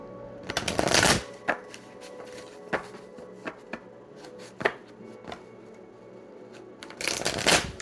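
A deck of tarot cards is shuffled in two quick riffling bursts, one at the start and one at the end, with scattered soft taps and card handling in between, heard close up.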